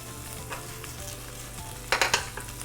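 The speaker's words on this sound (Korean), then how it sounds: "늘 항상 그렇듯이 양파와 대파를 볶도록 하겠습니다" Onion and green onion stir-fry in a hot pan for spicy Korean pork, a continuous close sizzle with a low hum beneath and a few louder crackling bursts as the pieces are stirred.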